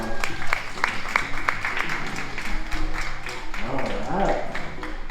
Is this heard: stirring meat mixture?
no